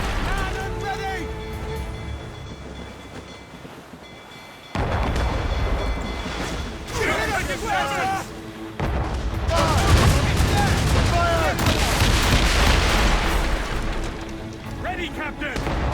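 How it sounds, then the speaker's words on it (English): Ship cannons fire in a naval battle in the video game Assassin's Creed Rogue, with loud booming volleys and rolling explosions over wind and sea, as crew voices shout orders in between. "Cannon ready!"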